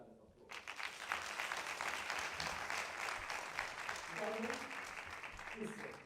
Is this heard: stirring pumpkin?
no